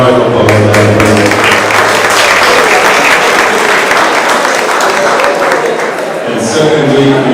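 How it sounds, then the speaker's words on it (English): A round of applause at a repass gathering, dense clapping from a crowd filling the room and fading near the end, with voices rising under it. "Let's have a round of applause."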